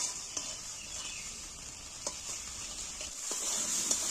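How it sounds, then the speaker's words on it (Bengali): Spice paste for lentil dal sautéed in oil, a steady close sizzle with occasional soft stirring scrapes, no talk. "এবার আমি মশলাটাকে ভালো করে কষিয়ে নিই"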